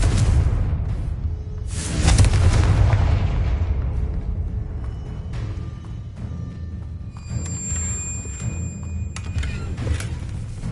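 Confringo and Bombarda spells blast in Hogwarts Legacy, a deep booming explosion rolling out with a heavy low rumble, followed by a second burst and ringing, chiming magical tones as the noise fades.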